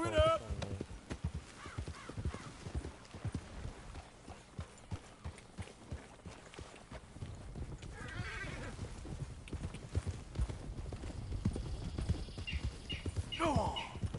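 Horses in Red Dead Redemption 2 trot with regular close clip-clop hoofbeats and neigh now and then, while someone talks intermittently over them.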